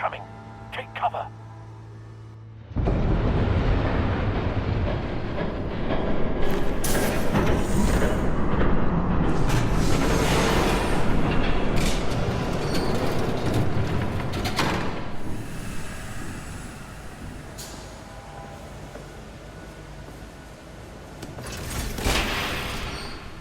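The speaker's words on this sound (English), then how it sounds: "There's a train coming." A train rushes past in a Batman video game, a loud sustained roar and rumble that begins abruptly and carries on for many seconds before easing off, with talk over parts of it.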